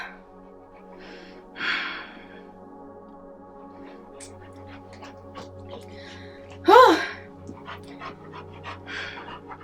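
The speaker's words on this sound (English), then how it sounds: "This dog. I didn't know this dog was coming over. And he's being so loud." A dog in a room pants with loud, breathy, rhythmic huffs and an occasional snort close by, while a person speaks.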